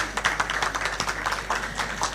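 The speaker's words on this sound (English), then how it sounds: "Let's give them all a round of applause." An audience at a schools' innovation challenge award ceremony claps, a brief burst of many hands applauding together, fairly close and steady throughout.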